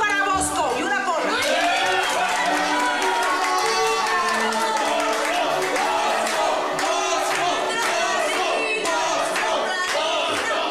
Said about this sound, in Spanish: ¡Un aplauso para Bosco!